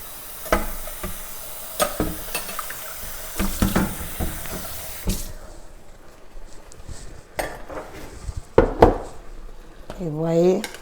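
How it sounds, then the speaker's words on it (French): Vegetables and tomatoes stirred in a saucepan while cooking collard greens, with clinking utensil knocks against the pot and a steady sizzling hiss near the mic, and a voice speaking over it toward the end. "On mélange nos légumes."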